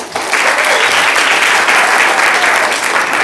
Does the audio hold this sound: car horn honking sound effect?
no